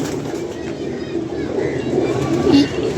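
A domestic pigeon coos softly in short low bursts near the end, set against a steady background hum.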